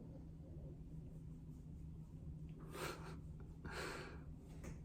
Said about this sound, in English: I don't know if you can hear that, but Bean is snoring really loudly